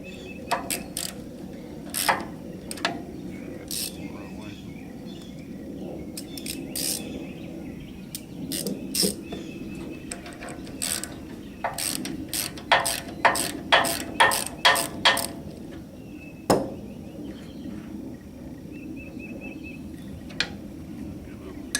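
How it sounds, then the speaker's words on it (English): A gear wrench ratchet loosening a nut on a Massey Ferguson Model 25 tractor gearbox, giving sharp, close clicks in short bursts and then a quick rapid run, with a faint background hum. "So I'm using my gear wrench. It's got a hole through it. It's gonna work good. Get ready. Loosen that nut up."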